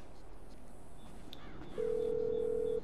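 A phone call to the mechanic in the game GTA 5 opens with faint menu beeps, then a steady ringing tone holds for about a second, moderately loud over a low background hum.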